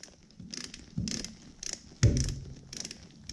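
A torque wrench with a 6 mm adapter tightens a fastener on a Honda Fury motorcycle shaft drive. Close ratcheting clicks lead to a sharper snap as it reaches the set torque.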